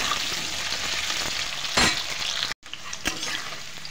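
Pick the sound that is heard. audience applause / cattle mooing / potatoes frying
potatoes frying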